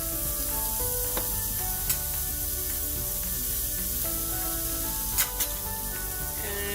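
A burger patty sizzles steadily in butter in a heated pan, a continuous close frying hiss with a few sharp pops and crackles, no talking.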